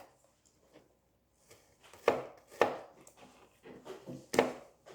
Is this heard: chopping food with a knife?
yes